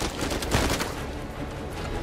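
Rapid bursts of gunfire in Uncharted: Legacy of Thieves Collection crackle continuously, dense overlapping shots with no talking.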